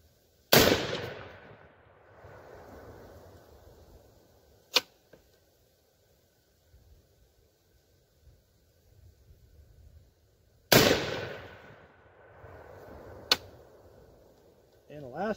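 Two sharp, loud rifle shots from a 6.5 Creedmoor AR10 with an 18-inch fluted upper, about ten seconds apart and fired at a target outdoors. Each crack has a ringing tail, faint metallic target hits follow, and quiet talk comes in between.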